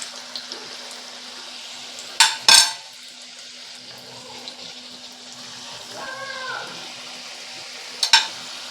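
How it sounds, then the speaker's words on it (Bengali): Potato rings fry in hot oil with a soft, continuous sizzle. A few sharp clinks of a utensil against the pan stand out, and no voices are heard. "আস্তে করে তেলের মধ্যে দিয়ে ভেজে নেব"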